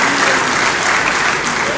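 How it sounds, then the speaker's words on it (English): Loud, dense applause from a conference audience honoring a university Vice Chancellor at a scientific conference opening, many hands clapping steadily and close throughout. "Another round of applause for"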